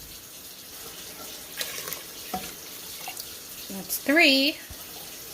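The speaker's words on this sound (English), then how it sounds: "Now I'm just adding liquid to the pot." Liquid runs from a tap into a salsa jar and is poured into a cooking pot in a home kitchen, a soft splashing stream broken into short bursts, with a voice speaking briefly.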